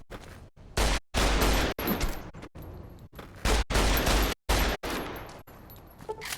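Repeated gunfire in the video game Fallout New Vegas: loud, close bursts of several shots each, with short gaps between volleys and no talking over them.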